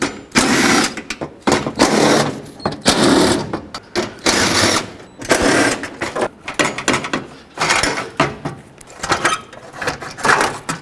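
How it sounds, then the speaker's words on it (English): Ratchet clicking and metallic rattles as 10mm bolts are loosened and removed from an engine bracket on a 2009-2013 Honda Fit, in close, busy bursts with short pauses between them. "I'll just take out all the 10mm bolts that are holding this on"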